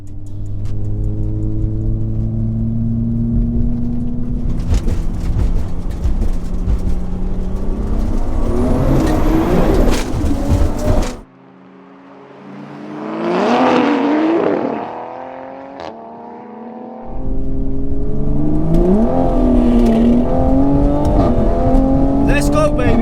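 A 700 hp Toyota Supra MK4 and a 550 hp MK5 Supra accelerate hard in a roll race, engines climbing in pitch through the gears, loud and close, in several cut segments with a quieter passage in the middle.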